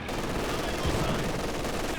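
Gunfire in Company of Heroes 2 as a fighting position comes under sustained fire, a dense continuous roar of shooting and battle noise with no gaps, a voice faintly present beneath.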